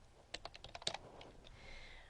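Keystrokes on a computer keyboard, about a dozen quick clicky taps in an uneven burst, close and fairly quiet, with no talking.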